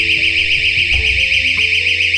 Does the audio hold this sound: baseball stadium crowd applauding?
no